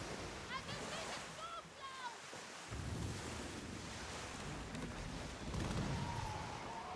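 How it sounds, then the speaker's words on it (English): Ocean waves wash and surge in the Skull and Bones pirate video game, a continuous broad roar of surf and wind with occasional whistling tones and faint ship sounds layered on top. "Look at the waves."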